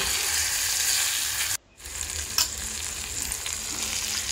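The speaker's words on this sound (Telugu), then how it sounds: "ఈ టమోటా ముక్కలు కూడా మెత్తబడి బాగా ఫ్రై అయ్యేంత వరకు చుక్కకూరని, టమోటాలని రెండింటిని ఫ్రై చేసుకోవాలి" Tomato pieces and chukka kura greens fry together in a pan, giving a steady close sizzle that drops out briefly for a moment before resuming, with a scrape from stirring.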